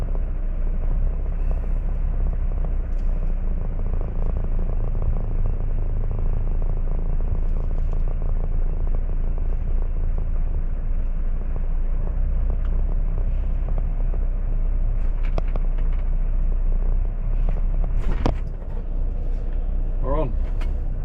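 A delivery lorry's diesel engine drones loudly and steadily while the lorry manoeuvres onto a loading bay, heard from the cab, with a few clicks and knocks near the end and a person talking over it.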